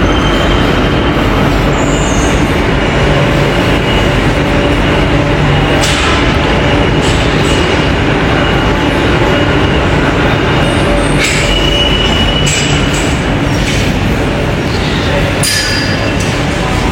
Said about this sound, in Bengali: এই যে মেট্রো।